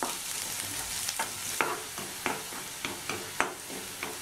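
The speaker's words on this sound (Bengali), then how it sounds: "এই পেঁয়াজ কুচিটা তেলের মধ্যে দিচ্ছি। পেঁয়াজটা হালকা ব্রাউন করে ভেজে নেব।" Chopped onion frying in hot oil sizzles steadily up close, with regular clicks and scrapes from stirring and no voices.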